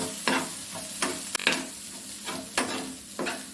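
Okra and egg thoran is stirred in a hot pan, with a soft, constant sizzle broken by several sharp scraping strokes of the spoon at an uneven rhythm.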